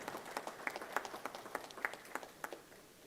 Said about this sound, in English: Requesting everybody to kindly give a big round of applause.